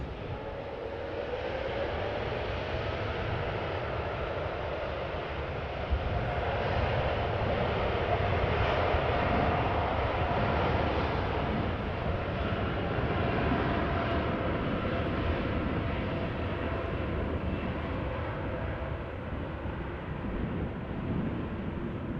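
An Air Europa Boeing 787-9 Dreamliner departs Amsterdam Schiphol at low, derated thrust, its engines a steady broad roar heard from a distance for over twenty seconds with no talk.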